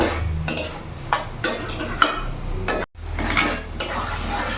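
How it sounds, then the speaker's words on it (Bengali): Prawns and pointed gourd (potol) with chopped tomato being stir-fried in a pan, with repeated scraping and clattering of a spatula against the metal under a soft sizzle, with no talking. "ভালো করে আমি এটাকে কষিয়ে নেব"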